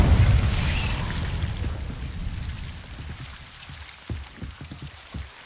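The Incendio fire spell cast in the video game Hogwarts Legacy, a loud burst of roaring flame that fades into crackling and scattered popping.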